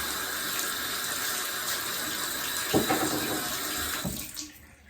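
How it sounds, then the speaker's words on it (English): Tap water running steadily at a sink to wet the outside of a dug glass bottle before cleaning, a close continuous splashing stream that shifts as the bottle moves and stops at the end. "Get the outside of your bottle wet."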